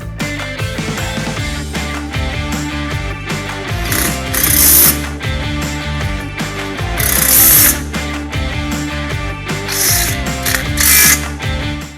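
A ratchet clicks in quick repeated bursts as bolts join the vertical metal pieces of a Fleximounts garage storage rack, loud and close with a metallic pawl chatter and brief pauses between runs.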